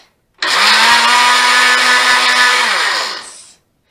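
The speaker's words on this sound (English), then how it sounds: "And we'll blend it till it's smooth." A loud blender roars to life pureeing butternut squash soup, whirs steadily for about three seconds, then winds down and stops.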